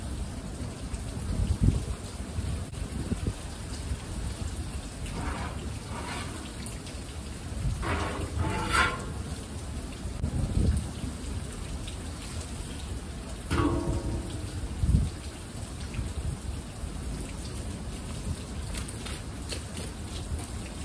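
Steady outdoor rain falls near a backyard grill fire as a constant broadband hiss, with a few louder patters and knocks breaking through now and then; no one speaks.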